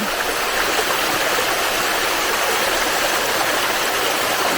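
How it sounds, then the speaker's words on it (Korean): Flowing water in a stream, a loud, continuous rushing wash close by, steady throughout with no voices or breaks. "이 물 흐르는 것을 지그시 바라보고 있는"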